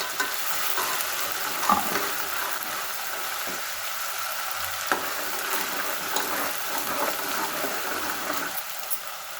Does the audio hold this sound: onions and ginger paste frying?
yes